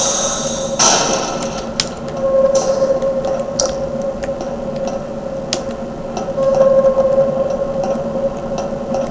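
Ship engine machinery runs in Garry's Mod, a steady mechanical hum with a sustained tonal drone and scattered sharp ticks and clanks over about nine seconds, no talking.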